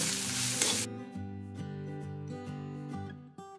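A pan of onion, turmeric and coriander sizzles loudly for under a second, then drops away as sustained music takes over.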